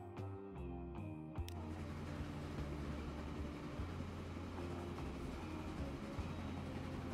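Train running along a long line in Transport Fever 2, a faint rumble with steady low tones and rolling noise after a short burst of clicks at the start, continuous and distant.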